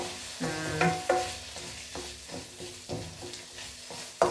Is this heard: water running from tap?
no